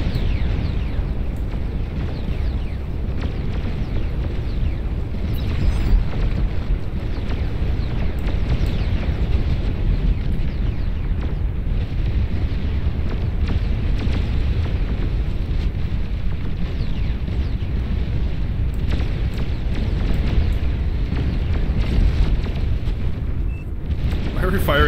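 Nuke explosions in the strategy video game Beyond All Reason, a deep, rumbling roar of blasts that sustains loudly throughout, with some talking over it.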